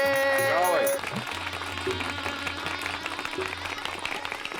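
Applause for wedding guests arriving at a baraat welcome in a TV comedy scene. A short bright musical sting opens, then a mass of clapping continues over low background music.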